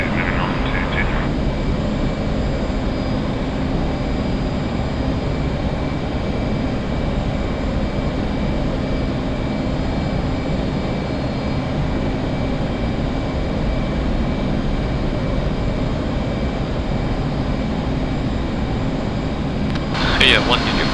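A jet aircraft taking off in a flight simulator game: a loud, steady engine roar lasting throughout, with short bursts of radio voice at the start and end.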